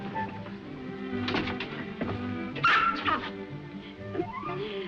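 A small dog in a 1940 film yips and whimpers in short, faint bursts, mixed with a muffled voice and some background sound in an old, thin recording.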